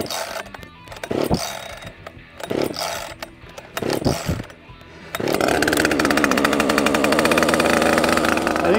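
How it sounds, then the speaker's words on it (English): A T540 XP X-Torque Auto-Tune chainsaw, primed and choked, gets its first cold start: several rough, uneven pull-start attempts, then the engine catches and settles into a loud, continuous buzzing idle close by. "It's the T540 XP X-Torque Auto-Tune. I primed it, set the choke. First cold start."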